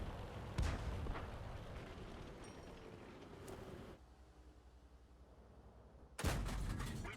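Booming shots from a tank cannon and gunfire in a World War II tank video game featuring a T-34, with a heavy blast near the start, another midway, and a sharp report near the end over a steady engine rumble.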